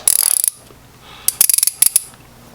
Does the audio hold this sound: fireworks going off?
no